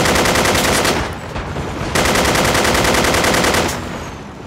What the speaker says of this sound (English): Oh, we're taking APC fire.